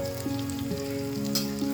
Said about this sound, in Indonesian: sekarang bahan-bahannya yang sudah kita siapkan tadi, mulai kita goreng